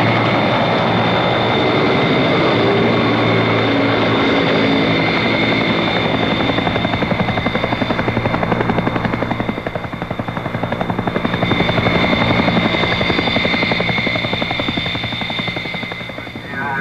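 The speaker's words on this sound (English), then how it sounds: "they're lifted in by Chinook helicopters of the brigade's Tactical Transport Company." Chinook helicopters carrying artillery guns in Vietnam in 1966 produce a loud, continuous rotor and turbine drone that swells and eases slightly over nearly seventeen seconds, heard alone.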